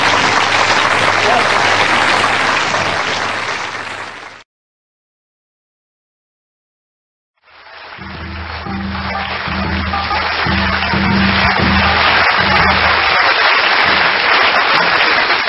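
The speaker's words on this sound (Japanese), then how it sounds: "たくさんの拍手でお迎えをいただきまして" Loud, dense audience applause for a rakugo storyteller at a comedy hall, breaking off into a gap of silence, then swelling back up as a full-room clapping roar that continues to the end.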